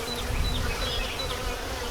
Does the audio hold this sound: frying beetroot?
no